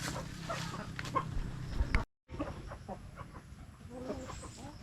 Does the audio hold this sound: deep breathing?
no